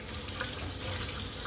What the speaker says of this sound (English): Just gonna wash my cucumbers. Wash them off real good.